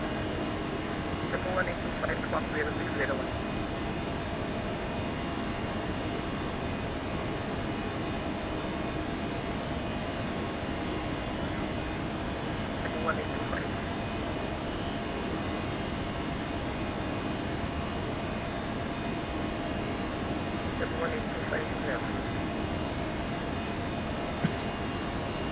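A ToLiSs Airbus A321 climbing out in the X-Plane 11 flight simulator, with a steady, broad engine and cockpit roar that holds level throughout, heard with a few faint clicks and some speech in the background.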